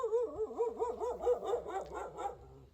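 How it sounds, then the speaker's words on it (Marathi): A dog on an early morning walk route barks in a quick, repeated run of yelping barks, fairly close and clear, with no talk over it. "आता याला भोकायची तर काहीच गरज नव्हती"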